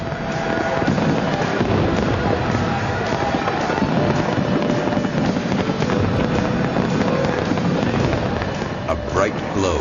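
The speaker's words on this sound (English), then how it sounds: "Special aerial shells create a huge canopy of color into which other shells are shot." Aerial firework shells burst over a river, spreading a huge canopy of color with more shells fired into it; a dense, continuous roar of crackling and booming stays loud throughout, with crowd voices mixed in beneath.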